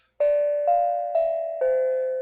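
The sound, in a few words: small bell rung to end a livestream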